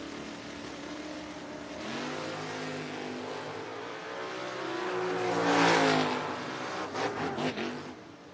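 A 1968 Camaro and a 1987 Mustang drag race at a strip, engines roaring together at a distance and swelling louder as the cars pass, then fading with sputtering pops.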